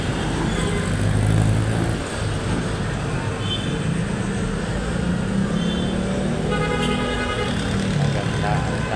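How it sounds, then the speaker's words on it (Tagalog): Steady evening street traffic in Quiapo, Manila, a continuous broadband roar of cars and other vehicles passing nearby, with low engine rumble and faint higher noises throughout. "Magandang daloy ng mga sasakyan"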